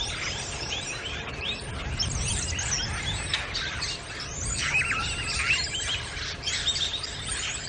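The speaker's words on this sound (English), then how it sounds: "korhaan taunting me in the distance with its high-pitched whistling call" A korhaan's high-pitched whistling call far off in the African bush at dawn, thin repeated whistles and chirps over a steady rumble of vehicle or wind noise.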